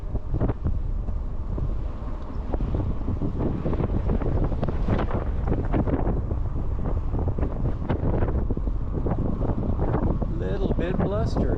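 Gusty outdoor wind buffeting the microphone near a marsh park along Little Sugar Creek Greenway in Charlotte, NC, a loud continuous roar that surges and eases, with a faint bird chirp near the end.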